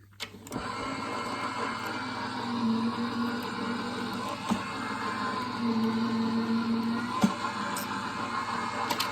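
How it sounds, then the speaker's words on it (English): A Gemini Jr. die cutting machine runs a sandwich of plates, a magic mat and 65-pound paper through its rollers, a loud steady motor whir with a few sharp clicks and a rising hum midway. "I'm going to put it through and show you how it cuts."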